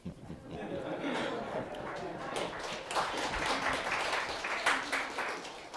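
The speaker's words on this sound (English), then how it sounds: "Oh, that got a round of applause." A conference audience at an education speaker series breaks into applause mixed with some chuckling and murmured voices, moderately distant and building gradually.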